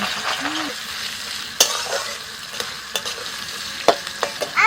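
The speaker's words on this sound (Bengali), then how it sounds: "এবার চাউমিনটা ভেজে নেবো" Chow mein noodles stir-frying in a pan with capsicum, onion, carrot and a little cucumber, giving a steady close sizzle broken by a few sharp scrapes and clinks of the spatula.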